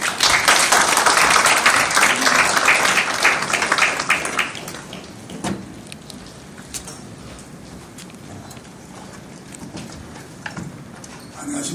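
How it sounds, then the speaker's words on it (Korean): Audience applause at a formal certificate ceremony for April 19 Revolution records, a loud burst of many hands clapping for about four seconds, then a few scattered claps trailing off into a quieter hall. "단상으로 뜨거운 박수로 모시겠습니다"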